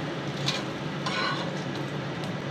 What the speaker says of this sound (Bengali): পরোটাটা ভেজে নিচ্ছি